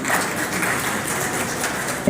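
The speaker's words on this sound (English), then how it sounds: "to welcome our chief guest with a warm round of applause" An audience at a women's college seminar on climate change and disaster applauds to welcome the chief guest, a dense, even wash of many hands clapping, steady and fairly loud throughout.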